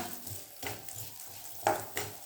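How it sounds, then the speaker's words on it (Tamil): Fenugreek seeds fry in sesame oil for a garlic-pepper kuzhambu: a soft, quiet sizzle broken by several scraping stirs of a spoon in the pan, with no voices. "இதை நல்லா நம்ம பொன் வறுவலாக வறுத்துக்கணும்மா."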